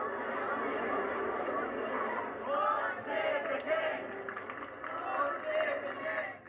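Royal supporters gathered at a royal residence, a crowd screaming and cheering with rising shrieks and excited chatter, steady crowd roar of moderate loudness throughout.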